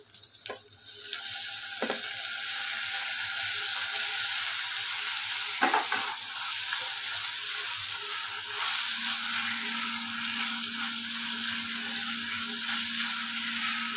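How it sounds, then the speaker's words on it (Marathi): Tomatoes tipped into a pan of sizzling onion, cashews and dal, a steady close frying hiss broken by a few sharp clatters and scraping stirs. "कांदा थोडा परतला, काजू डाळ सगळं परतलं की आपण आता टोमॅटो टाकूया."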